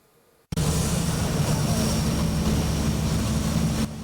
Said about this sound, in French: Les vrombissements de moteurs de gros engins de plus en plus récurrents à Ouagadougou